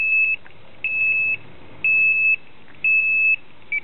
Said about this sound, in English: We're going to reset those alarms.